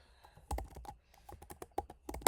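Typing on a computer keyboard, irregular bursts of quick close key clicks with short pauses between, clear and fairly quiet, no talk.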